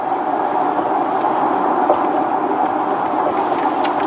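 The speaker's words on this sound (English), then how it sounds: "This is the sound of an electric car." A Tesla Model X 75D electric car on a test drive gives a steady, broadband rolling hum of road and cabin noise, constant and fairly loud without pauses.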